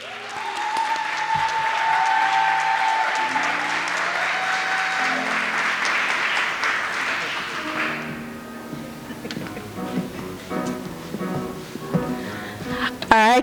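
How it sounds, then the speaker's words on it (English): A graduation audience applauds honorees, with dense clapping over a musical tone at first, then thinning into scattered louder claps and some voices near the end. "One round of applause for the honorees again"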